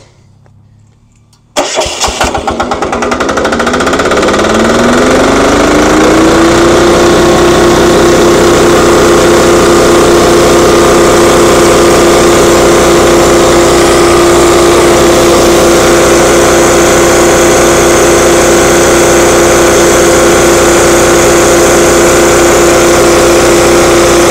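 A wet vacuum tanker's engine cranks and catches after a short quiet moment, then rises in pitch and settles into a loud, steady running roar that continues uninterrupted while the tank is emptied.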